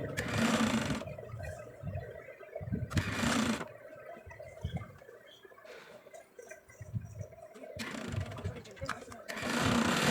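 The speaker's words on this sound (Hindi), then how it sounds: "यहाँ पे साइड सिलाई जो है वो एक साइड की हम लगा के दिखा रहे हैं" A sewing machine stitches the side seam of a baby girl's frock with ruffle sleeves, running in several loud, rapid bursts of mechanical whirring and needle chatter, separated by quieter pauses with soft handling noises.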